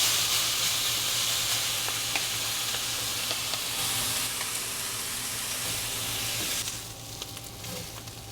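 Julienned onions frying with beef and bacon in a pan, sizzling steadily and loudly up close while being stirred, with a strong continuous hiss that eases slightly near the end.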